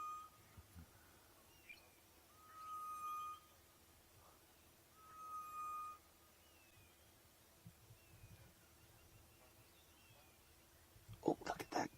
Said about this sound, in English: spookvoël, the ghost bird